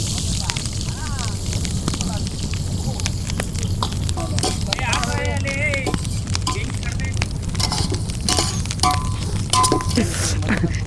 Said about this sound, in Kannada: ಎರಡು kg ನಾಟಿ ಸ್ಟೈಲ್ ಮಟನ್ ದೊಣ್ಣೆ ಬಿರಿಯಾನಿ ಮಾಡ್ಕೊಳ್ಳೋದಕ್ಕೆ 3/4 kg ಈರುಳ್ಳಿ ಹಾಕೋತಾ ಇದ್ದೀನಿ